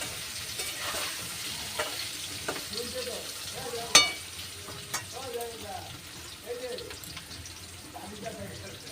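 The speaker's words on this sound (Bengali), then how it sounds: "আলু আর কচুগুলো একটু লাল লাল করে ভেজে নেব।" Potatoes and taro fry in a pan with turmeric and salt, producing a continuous crackling sizzle broken by stirring scrapes and one sharp clink, with faint voices murmuring in the background.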